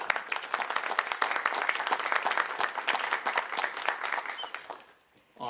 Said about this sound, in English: One more round of applause for our fourth graders.